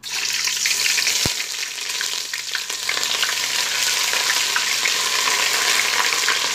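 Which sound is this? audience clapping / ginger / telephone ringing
ginger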